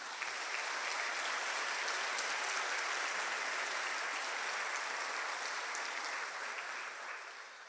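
A church congregation applauds the Lord during a sermon on conquering cities, a long, even, dense burst of clapping that tapers off at the end with no talk over it.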